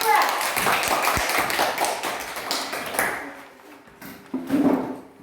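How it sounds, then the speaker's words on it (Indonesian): Classroom applause for a student discussion group, dense clapping from many hands in a room with children's voices mixed in, tapering off with a few scattered claps and talk near the end. "tepuk tangan buat kelompok"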